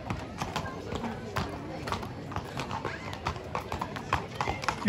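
Horse hooves clip-clop steadily at a festival procession for Saint Kirykos in Kleio, Lesvos, the hoofbeats close and rhythmic over a busy crowd with people talking and an occasional whinny.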